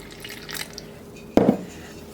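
Cold water poured into a flour mixture for crisp fried chicken batter, a single brief splashing pour heard close by in a quiet kitchen.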